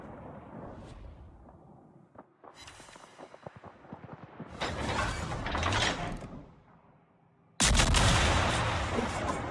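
Ship guns firing at a Yoshino in the video game World of Warships: a series of gun reports and mechanical clanks building into a sustained roar, then a sudden loud salvo near the end.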